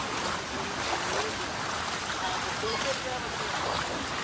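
Water flowing and splashing near a waterfall in Palakkad, a broad steady rush with children playing nearby and faint voices in the background.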